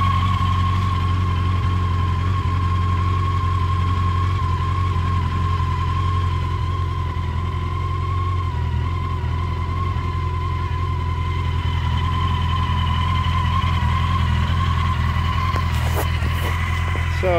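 A 2014 Yamaha FJR1300 motorcycle idling steadily with the clutch lever pulled in, a continuous close engine hum with a constant whine, unchanging throughout, and a few faint clicks near the end.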